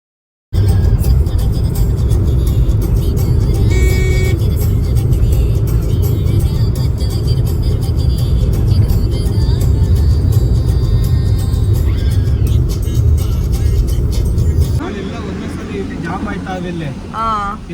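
Heavy road traffic in a jam on the way back from Udupi, with many vehicles: a loud, constant, close engine rumble that softens near the end, with people talking over it.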